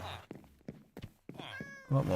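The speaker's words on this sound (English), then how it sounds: "Yep, teleporting kitties." Cats meowing in the Minecraft video game, several short mews and chirps in quick succession with a soft thunk, layered over background game sounds.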